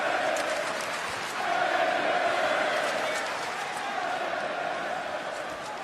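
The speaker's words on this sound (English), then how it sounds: "The crowd chanting for Jasmine" In the WWE 2K wrestling video game, an arena crowd roars and chants throughout a match as a dense, continuous wash of massed voices with rhythmic swells, heard at a distance.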